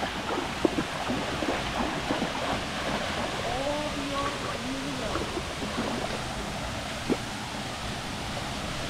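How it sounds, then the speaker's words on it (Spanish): The Salto Jimenoa 1 waterfall gives a steady, broad, full rush of falling water that fills the whole scene, with a faint voice briefly audible beneath the roar. "esto es el Salto Jimenoa 1"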